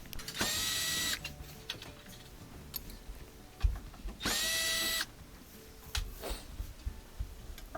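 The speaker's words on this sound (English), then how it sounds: "we just got to take off a couple of Phillips head screws on the back" A Phillips screwdriver or small power driver loosens a couple of screws from the back cover of an unplugged appliance: two loud, sustained whirring bursts about a second long, separated by scattered clicks and taps.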